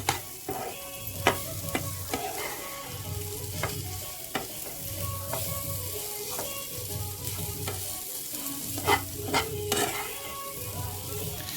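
A spoon stirs leafy greens roasting in a pan with crushed peanuts, steady close sizzling broken by rhythmic scraping strokes and occasional clinks against the metal, with no voices.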